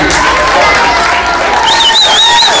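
Loud crowd applause and cheering after a young performer's live show, a dense wash of clapping and shouts over a couple of seconds with voices and some tonal music mixed in.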